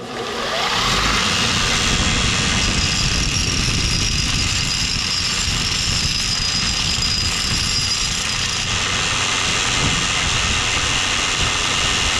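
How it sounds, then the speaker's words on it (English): A belt grinder cleans up a freshly notched metal piece cut on a Rogue Fab notcher, producing a loud, steady, continuous grinding roar for about twelve seconds with no talking. "you just take that over to the belt grinder and clean it up real quick"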